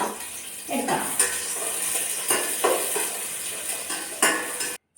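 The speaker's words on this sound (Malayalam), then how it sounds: "അപ്പം ഞാൻ കുറച്ച് സവാള വറുത്ത് പോരട്ടെ കേട്ടോ" Sliced onions fry in oil in a pan for a rice dish garnish, giving a steady close sizzle. Repeated scraping and clinking stir strokes sound over it, and everything stops abruptly just before the end.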